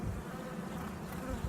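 A dense, continuous buzz of many honey bees, steady and close, with no voices.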